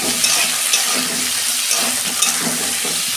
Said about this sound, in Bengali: সবজিগুলো আমি নুন দিচ্ছি অল্প। এগুলো ভালো করে আমি ভেজে নেব।